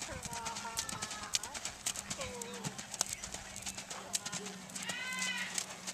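A black two-year-old AQHA filly trots with a steady, rhythmic clip-clop of hooves, fairly close, while a voice talks over the gait.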